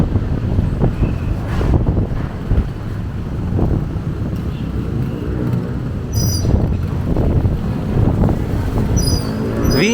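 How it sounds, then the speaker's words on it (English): Steady wind buffets the microphone with low rumbling gusts after a super typhoon in Dau, Philippines, close and fairly loud, with faint traffic or engine noise beneath. "Windy now."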